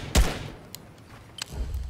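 Golden AK rifle firing in Fortnite: a single heavy shot up front, then a couple of fainter sharp pops and low thumps in the background.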